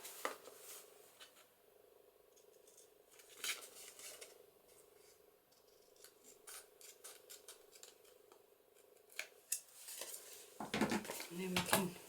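Paper scraps being snipped with scissors for journal embellishments, a series of short, crisp cuts spaced irregularly, some sharper and louder, with faint handling rustle between and a low voice murmur near the end.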